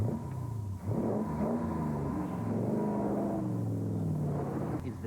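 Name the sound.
Daimler Dart SP250 sports car engine revving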